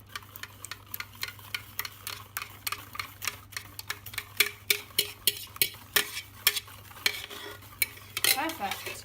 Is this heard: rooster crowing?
no